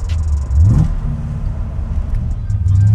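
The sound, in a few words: 1981 Corvette ZL1 427ci V8 engine accelerating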